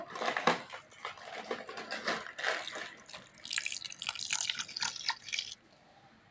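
Water is poured into a cooking pot holding vegetables, giving a steady splashing, dripping flow over several seconds that stops abruptly near the end, with no talking.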